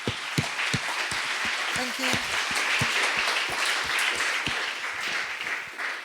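An audience at the Accessibility Club Summit 2019 applauds a speaker after her talk, with steady, close clapping and distinct sharp claps throughout, while a voice speaks briefly in the middle.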